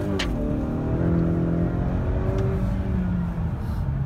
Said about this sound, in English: All right, so I'm about to punch it so you can see the difference.